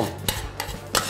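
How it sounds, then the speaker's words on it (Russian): Dill is stirred quickly into sour cream in a bowl with a spoon, three short wet scraping strokes close by, with no talking. "Следует быстро перемешать укроп."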